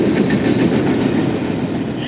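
A train rumbles past on the railway nearby, loud and continuous, with wheels rattling over the rails in a steady clatter.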